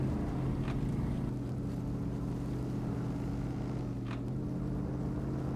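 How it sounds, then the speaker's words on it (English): A heavy truck engine in the SnowRunner video game drones at a steady, loud, low pitch with a buzzing harmonic tone and no pauses, with no one talking. "the sound of this truck's a little bit annoying"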